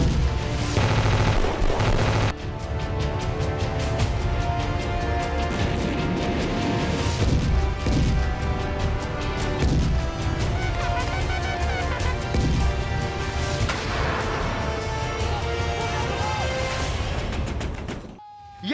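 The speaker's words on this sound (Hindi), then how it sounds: "कहीं गोला बारूद की गूंज, कहीं जारी है हवाई धमाका" Gunfire and blasts at the Line of Actual Control border, dense overlapping bursts of shots and heavy booms running almost continuously, loud and rough throughout.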